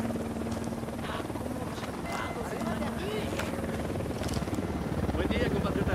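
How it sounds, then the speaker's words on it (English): An incoming helicopter in Ghost Recon Wildlands on Xbox One X, its rotor chop a continuous mid-level thrum that rises a little near the end, under intermittent game voices and effects. "Chopper inbound."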